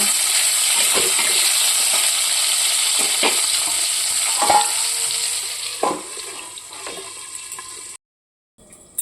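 Panch phoron with fenugreek seeds sizzles loudly in oil while a utensil scrapes and knocks in the pan at irregular intervals. The hiss fades toward the end, then cuts to near silence.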